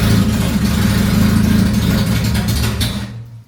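A Nissan S14 240SX engine on its first start attempt settles into a loud, rough idle with a deep rumble, then drops away sharply near the end.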